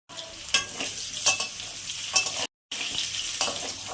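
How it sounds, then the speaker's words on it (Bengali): Parboiled potatoes and two dried chillies frying in a pan of oil with tempering spices, a steady close sizzle with occasional stirring scrapes and clinks, brief drop-out partway through. "দুটো শুকনো লঙ্কা দিলাম, হালকা সিদ্ধ করে রেখেছিলাম আলুগুলো দিয়ে দিলাম।"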